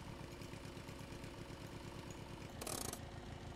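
A car engine idles in the video game Jalopy with a steady, low rhythmic chug, fairly quiet, interrupted briefly by a short burst of brighter mechanical noise.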